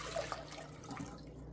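About three cups of water are poured into a cooking pot for homemade chamoy, making a faint, soft splashing trickle that lasts a second or so.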